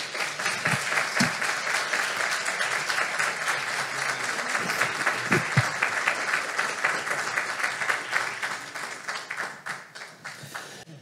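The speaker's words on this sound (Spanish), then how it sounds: "Un aplauso." Applause from the audience after a talk at a Sunday meeting, sustained, dense clapping with a few sharper nearby claps, tapering and thinning toward the end.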